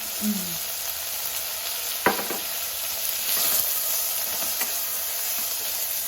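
Onions fry in a pan with salt and turmeric while being stirred, giving a steady close sizzle with soft hiss and a few scraping knocks of the spatula and no talk.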